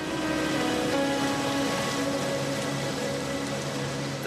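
Steady, loud rain falling continuously as a dense hiss with no distinct pauses and no voices.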